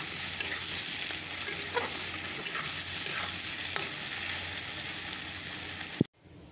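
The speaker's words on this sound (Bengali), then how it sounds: "দিয়ে ভাজা হচ্ছে, তারপর মশলাটা দিয়ে দেবো" Fried soybean with potato, tomato and onion sizzling in a pan, a continuous near crackle broken by several light utensil scrapes, then a sudden cut to near silence at the end.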